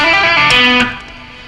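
A short electric guitar phrase of legato notes, hammered on and pulled off in a quick run down a scale in a rock style, ringing clearly and then decaying.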